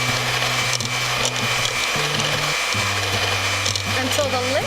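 Cold heavy whipping cream beaten with an electric mixer, a steady motor whir that shifts pitch several times as the speed changes, with a voice talking over it.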